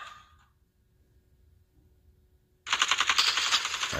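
Automatic gunfire in the video game Warzone erupts loudly about two-thirds of the way in, a rapid sustained burst of shots after a quiet stretch with faint background sound.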